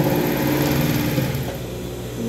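A sewing machine runs steadily, stitching a child's short-and-crop-top outfit in one continuous, close, even whir with no talk.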